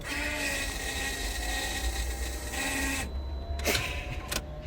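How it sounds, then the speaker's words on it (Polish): A steady mechanical hum and whir of a Volvo race car's fuel pump priming runs continuously, followed by a couple of brief clicks near the end. "Bomba paliwa."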